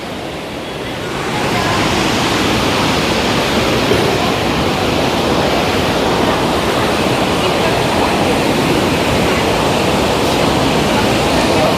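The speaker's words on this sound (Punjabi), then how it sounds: "ਇਸ ਸਮੇਂ ਨਾ ਨਦੀ ਵਹਿ ਰਹੀ ਆ ਪਾਰਬਤੀ ਨਦੀ" The Parvati river rushes past at Manikaran Sahib, a loud, steady roar of flowing water that swells in within the first couple of seconds and then holds constant and unbroken.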